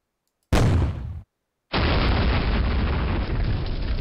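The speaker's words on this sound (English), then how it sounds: "one serious piece of artillery." Artillery explosions in the war game Rising Sun, set in the fall of the Philippines: a loud, close blast cuts off abruptly, then after a short silence a second sustained roaring burst rumbles on to the end.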